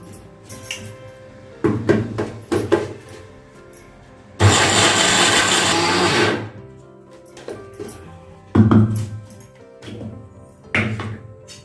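A kitchen mixer grinder whirs loudly for about two seconds, blending sesame seeds and jaggery powder for sesame laddu, set between quieter clinks and scraping of utensils.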